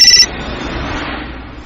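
A mobile phone rings loudly and close in a short electronic tone burst lasting a fraction of a second, then gives way to a fading murky ambience.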